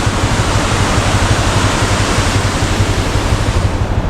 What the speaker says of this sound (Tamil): கைஸ் இங்கே பார்த்தீங்கன்னா தண்ணி பயங்கரமாக போகுது.